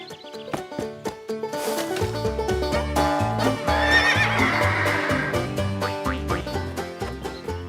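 Cartoon horses neigh and whinny over a bouncy music score with clip-clop hooves, several shrill whinnies rising in the middle, no talking.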